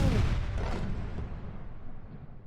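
A heavy explosion booms at the airport in Kyiv during a drone attack, a loud deep blast that rolls and decays over a couple of seconds.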